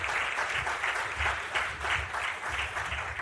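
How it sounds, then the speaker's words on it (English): An audience at a football awards show claps steadily in a room, with a close, continuous patter of applause that holds throughout. "Let's give everybody a round of applause again."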